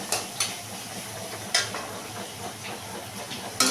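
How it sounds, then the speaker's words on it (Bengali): Onion fries gently on low heat in a pan, a soft steady sizzle broken by a few sharp scrapes and clinks of stirring. "একদম কম স্টিমে এটাকে একটু ভেজে নিতে হবে।"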